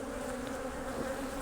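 Dense, steady buzzing of many honey bees swarming around a lifted hive frame during a close inspection for swarm cells, a continuous insect drone with no talk over it.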